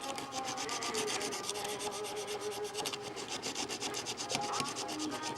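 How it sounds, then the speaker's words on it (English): A hand tool scrapes paint off a metal part in fast, repeated rasping strokes, making a steady gritty scratching close to the microphone with no speech over it. "We want to get some of the paint off of where this is going to be JB welded"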